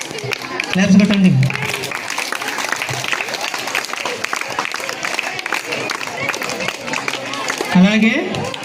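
Steady audience applause at a school Teachers Day celebration at ZPHS Konidela, many hands clapping continuously at moderate volume, with an announcer speaking over it at the start and end.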